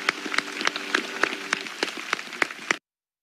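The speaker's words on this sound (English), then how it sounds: "Big clap, please." An audience claps in a steady, evenly spaced rhythm at a meditation gathering, moderately near and alone, for under three seconds before cutting off abruptly.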